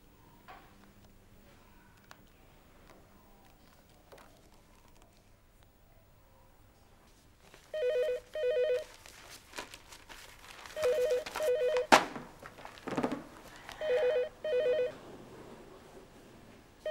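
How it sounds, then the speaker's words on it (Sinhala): A telephone rings out during a call, its tone arriving in paired ring bursts repeated three times at a moderate level after several seconds of near silence, with no talking. "දෙමු ගල්වැලි බස්සට කෝල් එකක්."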